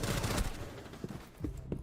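Rapid bursts of gunfire from the video game Rainbow Six Siege, a dense volley up front followed by a few sharper separate shots, loud and close.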